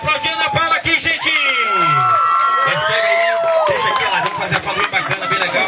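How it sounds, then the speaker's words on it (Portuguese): Crowd at a Mother's Day community party cheering, whooping and clapping, with excited shouts and a rising whistle-like voice over a lively, fairly loud burst of applause. "Vamos aplaudir a Ana Paula aqui, gente."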